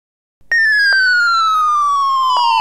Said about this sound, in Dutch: Een Amerikaanse politieauto. Hij komt aanrijden.